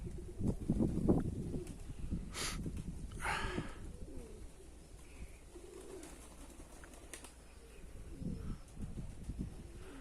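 Pigeon cooing, low throaty coos repeating across the stretch with a few brief sharper bird calls and some handling rustle, close and quiet, no speech.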